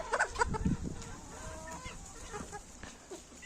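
Farmyard chickens, including bearded and crested hens, cluck in short close bursts at the start, then fainter scattered clucks and calls continue over a low outdoor background.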